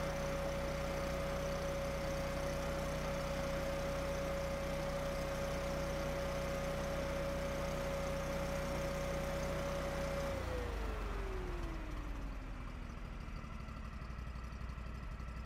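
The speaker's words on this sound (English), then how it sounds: "Start and run the engine at the low speed setting, previously set to 1500 RPM." An engine holds a steady idle at its low speed setting of about 1500 RPM, a continuous close hum that drops noticeably in pitch partway through and settles lower.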